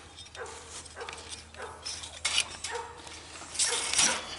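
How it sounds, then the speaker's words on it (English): Several dogs bark repeatedly from a moderate distance near a farm fence line, in irregular bursts of sharp barks and yips that grow louder toward the end. "Crazy dogs over there."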